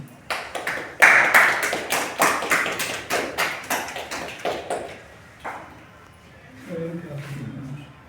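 Loud rhythmic hand clapping nearby at a felicitation event, around a dozen sharp claps in steady succession, fading out as a voice starts talking.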